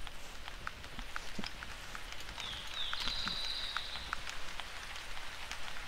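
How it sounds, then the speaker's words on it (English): Rain falls in the hunting video game theHunter, a soft, steady patter of drops on surfaces with scattered individual drips. It plays quietly and continuously with no voices over it. "starting to rain."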